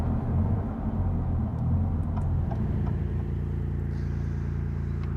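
A Maserati MC20 being driven hard down an open road, its engine a steady, loud, low drone with a constant rumble throughout and no clear gear changes.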